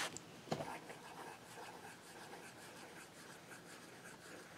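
Cross fountain pen inked with a blue ink scratching quickly across paper, a soft continuous rasp with one sharper tick near the start, close and fairly quiet with no talk.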